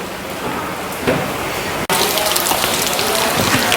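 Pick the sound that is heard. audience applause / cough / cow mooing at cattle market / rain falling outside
rain falling outside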